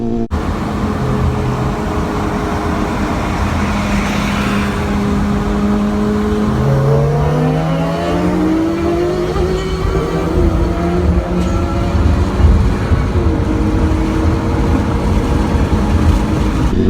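Street race against a supercharged 9th-gen Honda Civic Si making about 400-plus wheel horsepower: a loud, continuous engine roar with rising and falling pitch sweeps as the engines rev and shift, under steady wind rush.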